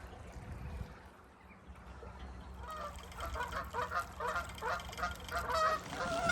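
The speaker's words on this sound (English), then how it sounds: "Goose fight." Geese fight on a canal lined with houses, breaking into loud, harsh honks partway through. Overlapping calls repeat in quick bursts and grow louder toward the end, over a low background hum.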